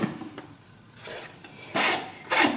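A farrier's rasp worked against the wall of a horse's hoof during treatment for canker, with a few quiet scrapes followed by two loud, harsh rasping strokes close up.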